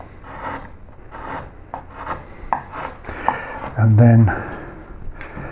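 Flat gouge carving wood on a dog portrait, with repeated scraping and shaving strokes, several short knocks and one louder thud, heard close up under someone talking.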